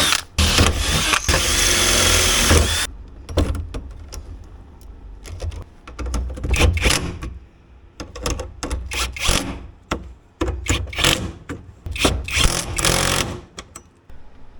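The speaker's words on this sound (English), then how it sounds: "And then we can drill the holes," A power drill whines in repeated bursts of varying length, starting and stopping again and again, close by with no speech, drilling holes to bolt down a shifter in an Acura Integra.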